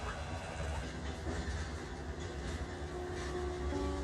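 Inside a moving long-distance passenger train at night, a steady low rumble of wheels on rails with faint rattling fills the carriage, continuous and even, with a soft murmur of people in the background.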